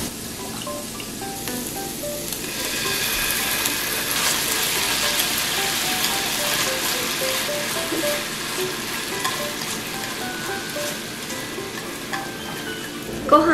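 Rice frying in a pan for omurice as sauce is added, a steady, even sizzle with soft stirring scrapes throughout, close and moderately loud, with no talking.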